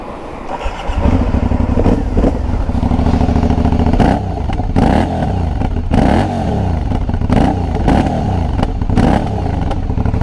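An Aprilia Shiver 900 motorcycle engine starts up loud and close, then idles with a rumbling throb and several sharp revs climbing and falling.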